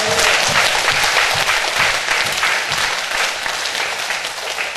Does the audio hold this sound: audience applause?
yes